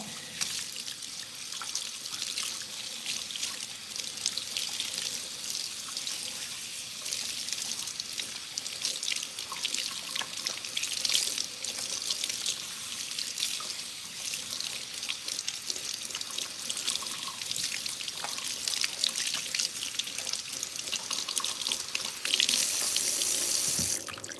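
Cold tap water runs steadily while hair is rinsed after coloring and relaxing, a continuous hiss of splashing water that stays at the same moderate level throughout.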